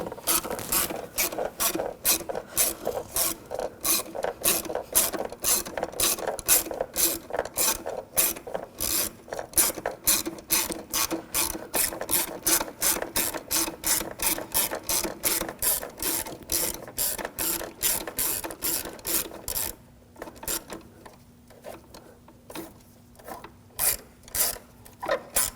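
A hand ratchet tightens the battery hold-down bolt on a 2006-2009 Audi S4, giving a long run of rapid, evenly spaced clicks up close that slow into sparser strokes near the end.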